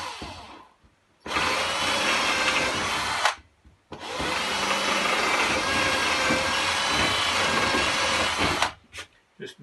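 A power drill bores holes to cut out a porthole in a narrowboat during its build and fit-out. Close and loud, it runs in two sustained bursts, a short one and then a longer one, with a brief pause between them.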